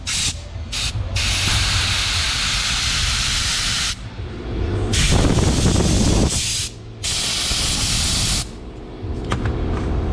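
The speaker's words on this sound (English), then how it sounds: "Let's blast some air through here just to ensure there is no debris." Compressed air blasts in bursts through a 2007 Honda Shadow V-Twin 750 carburetor, loud close hissing jets that start and stop several times with brief gaps between them.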